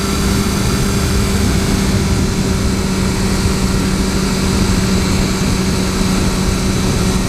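A 2015 BMW S1000R motorcycle engine held in fifth gear while riding, a steady loud drone with a constant low hum and wind roar, unchanging throughout.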